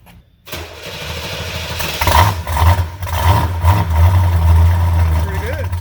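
A 1972 Buick GS Stage 1 V8 cranks and fires through a new exhaust, settling into a loud, deep, lumpy idle close by. People talk briefly over it.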